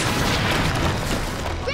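A robot's blaster arm fires in Power Rangers Ninja Steel, giving a loud, dense burst of booming blasts that lasts the whole moment.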